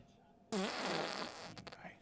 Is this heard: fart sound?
yes